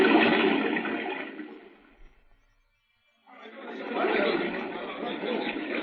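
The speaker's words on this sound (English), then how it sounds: "Jim's coming from behind the waterfall now, Sheriff." Rushing waterfall effect in an old-time Western radio drama, loud and steady, fading out to near silence midway and then returning at full strength.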